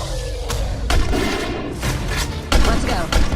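Gunshots in a video game trailer shown at the Xbox Games Showcase, with booming shots and heavy impacts over a loud, dense mix of music and effects, and voices mixed in.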